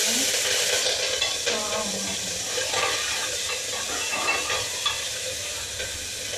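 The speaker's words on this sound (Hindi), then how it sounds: "अभी मैं लगा रही हूँ इसमें तड़का" Steady, loud sizzling of spices hitting hot oil for a tadka with tomatoes and green chillies, a continuous crackling hiss with small pops throughout.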